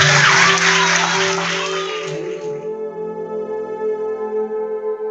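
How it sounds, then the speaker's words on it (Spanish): An audience breaks into applause for about two and a half seconds, a dense wash of clapping that fades out as a sustained harmonic music bed carries on underneath. "Un aplauso."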